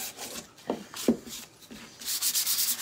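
Rough hand sanding of a small wooden coffee riser between paint coats, a few short scraping strokes followed by a quicker run of rubbing, close and fairly quiet with no talk.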